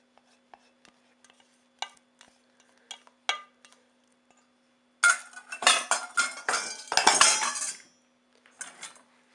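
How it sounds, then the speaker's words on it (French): A utensil stirs hot cream into chocolate in a bowl to melt it, scattered light taps and scrapes building into a busy, close clatter of stirring and clinking before fading to a few final knocks. "Et je mélange bien pour faire fondre le chocolat."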